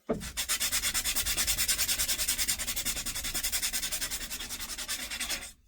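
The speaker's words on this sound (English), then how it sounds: "Hit it with a little sanding, smooth out those burrs a little bit." Steady, rapid back-and-forth sanding strokes rasp against a metal axe head, smoothing burrs, in a close, continuous rhythm lasting several seconds, with no talking.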